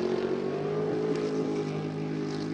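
A V8-powered Nissan 350Z drift car during Formula Drift qualifying in Atlanta, its engine holding a loud, steady droning roar as it goes back on throttle, heard from trackside.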